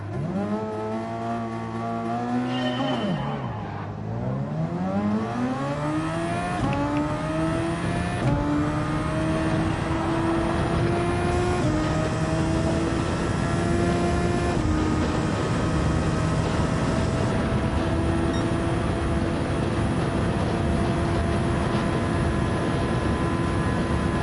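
Race car engines in Gran Turismo 7 launching off the line, a loud high rev that dips and then climbs through rising gear pulls, with several engines droning together in a sustained roar, no talking.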